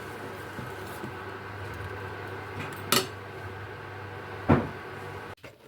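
A paddu pan set onto a stove while cooking navane paddu, two distinct metallic clunks a couple of seconds apart over a low kitchen hum, with a faint clatter at the end.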